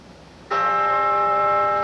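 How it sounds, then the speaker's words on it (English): The Centennial Bell rings out at Independence Hall in Philadelphia during a Constitution bicentennial ceremony, a single clear struck tone with a rich sustained ring that starts sharply after a quiet moment. "The Centennial Bell rang out."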